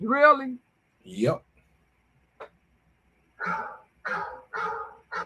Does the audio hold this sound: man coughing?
no